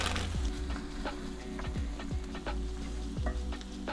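Shredded cheese being stirred into a keto dip, a steady scraping and stirring with soft sizzling underneath, continuous and close with a few sharper knocks of the utensil against the dish.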